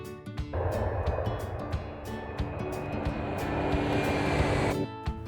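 An airplane flies past, a steady broad engine roar that rises and holds for several seconds, loud and continuous, then cuts off abruptly, with a soft musical backing at the start and end.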